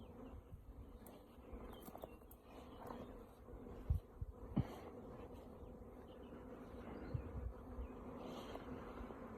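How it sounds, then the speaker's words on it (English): Bees hum steadily inside a wooden hive box, a low continuous buzz that stays fairly faint and even throughout, with a few sharp knocks partway through. "I seem to have bees in that box."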